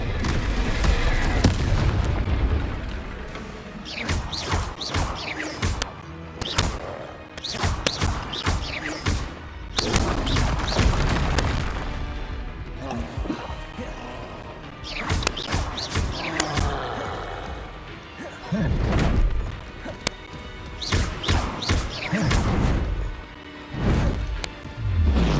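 Incendio fire spells cast repeatedly in the Hogwarts Legacy video game, a run of loud booming whooshes and crackling blasts with short pauses between them, set against heavy continuous game noise.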